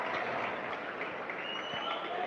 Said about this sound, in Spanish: Ahí está la ovación del respetable de este terreno del Laureano Castro